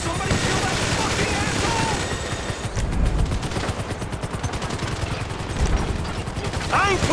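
Rapid automatic gunfire and scattered shots from a shootout at a construction site in GTA V, dense bursts with sharper volleys mid-clip, voices shouting over the clatter.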